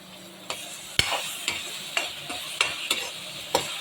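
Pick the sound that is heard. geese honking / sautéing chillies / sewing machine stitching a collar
sautéing chillies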